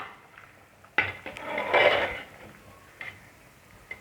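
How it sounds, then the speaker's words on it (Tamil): A metal utensil scrapes and clinks against a pot of boiling potato and pea kurma, a short burst of stirring followed by a couple of lighter taps, close by with no talking. "ஒரு கிளறு கிளறிடுவோம்"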